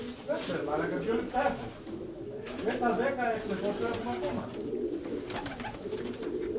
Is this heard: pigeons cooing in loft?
yes